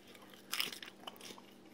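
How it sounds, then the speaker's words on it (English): Crunchy cabbage and carrot side from an MRE bitten close up, a sharp crisp crunch followed by a few softer chewing crackles, quiet and without talk. "It's crunchy. It's got, bits of cabbage, and carrots."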